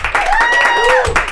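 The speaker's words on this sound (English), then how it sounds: "Round of applause for Lindsey Shaw," Comedy club audience applauding and cheering loudly at a live stand-up show, a dense burst of clapping with a voice over it.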